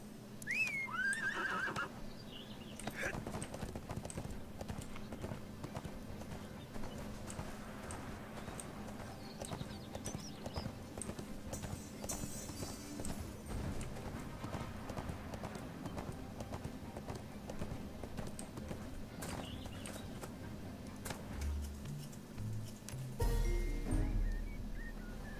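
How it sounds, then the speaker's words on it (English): Horse hooves clip-clop steadily in the video game ArcheAge, a continuous rhythmic trot mixed with a whinny and game music, close and fairly loud throughout. "Get on the horse."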